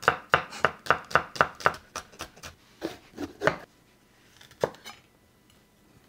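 Thin slices of onion are cut with a knife on a board: a fast, even run of crisp chops up close, slowing into a few scattered cuts, then a lone final knock in near quiet.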